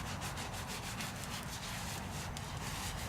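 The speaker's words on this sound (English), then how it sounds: "just scrub anything you can get that brush on" Minibike parts scrubbed with a brush during a minibike build: quiet rhythmic back-and-forth bristle strokes, roughly even and close, with no voices.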